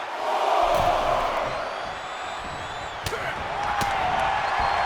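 A raucous SmackDown arena crowd in WWE 2K24 roars and cheers continuously, with a couple of sharp slam-like impacts in the middle of the sustained noise.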